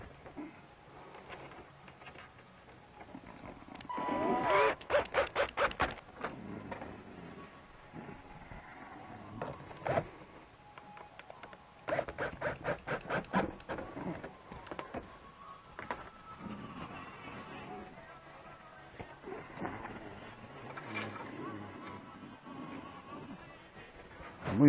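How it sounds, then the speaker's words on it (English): A 3/16 nut driver works fasteners on a 1/5 scale RC modified body, giving bursts of rapid clicking ratchet-like ticks in two clusters, close and fairly loud against a quiet workshop background. "My 3/16 nut driver."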